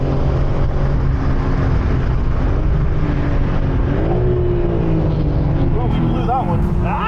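A BMW M4 G82 at speed on a race track, its engine roaring steadily and loud throughout with rising pitch sweeps near the end, while a voice talks over it.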